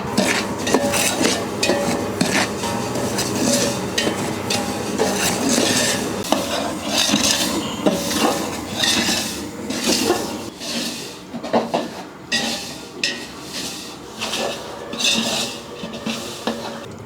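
Dry semolina roasting in oil is stirred steadily in a large metal pot, with a spoon scraping and clinking against the sides in an irregular rhythm, close by.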